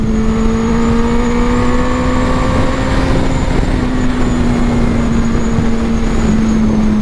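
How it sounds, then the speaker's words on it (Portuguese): A black Suzuki B-King 1340cc motorcycle on a test ride gives a loud, continuous engine drone whose pitch climbs gently as it pulls ahead. "Você dá a mão, a moto vai"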